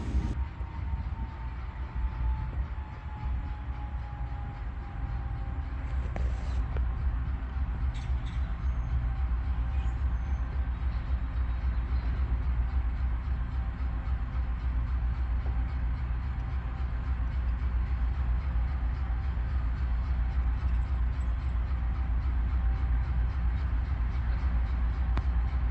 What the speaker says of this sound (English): The train stops just shy of the crossing here at Mill Street